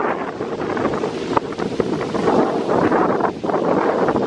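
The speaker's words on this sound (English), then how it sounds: "It's a bit cold and windy." Strong wind on Bohol Island, Philippines, buffeting the microphone, a continuous roaring rush with gusts rising and falling, water sloshing faintly beneath.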